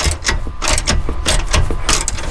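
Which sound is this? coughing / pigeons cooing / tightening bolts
tightening bolts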